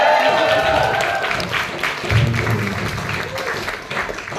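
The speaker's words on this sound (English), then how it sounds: "I love that we applaud people when it's their birthday" A comedy club audience applauds a comedian's birthday with a sustained wash of clapping. Some crowd murmur and a voice run underneath, and the applause eases off midway before continuing.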